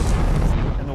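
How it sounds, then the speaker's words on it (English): A wall explodes in a film set effect: a deep, booming blast with a loud rumbling roar that fills the whole second, close and heavy, as water rushes in. "the wall explodes, and the water comes rushing in this doorway"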